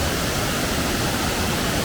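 Raven Cliff Falls in South Carolina roaring as water plunges, a dense, steady, loud rush of falling water without any break or speech.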